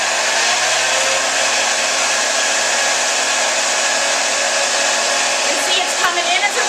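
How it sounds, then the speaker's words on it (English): A fiber mill spinning machine runs steadily while spinning yarn, a loud, even whooshing whir that holds constant throughout with no talk. "This is the spinner. This is going to spin a single ply."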